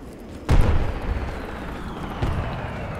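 Two heavy booms from a bomb detonating in the Project Reality military shooter game: a loud, deep blast with a rumbling tail, then a second, slightly weaker thud about two seconds later.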